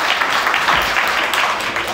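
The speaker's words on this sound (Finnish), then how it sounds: "Eikö vielä anneta aplodit." Festival audience applause at a film screening, a brief burst of dense clapping that is loud and close.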